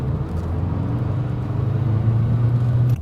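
A Subaru's engine drones steadily under throttle while drifting, a close continuous rumble that swells slightly toward the end, with no speech.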